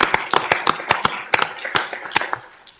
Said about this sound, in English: do a round of applause for all his hard work.